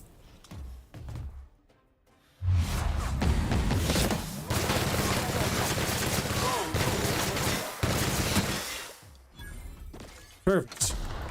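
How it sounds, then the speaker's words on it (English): Heavy sustained gunfire and crashing impacts in a video game, loud and continuous for several seconds, with people talking over it and a few sharp bursts near the end. "we still shooting at people? Sure are."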